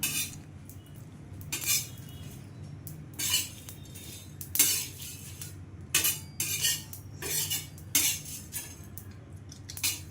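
Dried chili, cumin, cardamom and mace dry roasting in a pan, a run of repeated metallic scraping and clattering bursts as the spices are stirred, close and fairly loud, with no voices.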